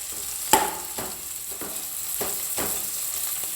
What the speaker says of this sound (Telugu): ఇందాక మిక్సీ పట్టుకున్న పాలకూర అనేది మనకి ఇందులో వేసుకొని కొంచెం ఆ పచ్చివాసన పోయేదాకా మనం కొంచెం ఫ్రై చేసుకోవాలంతే ఆయిల్లో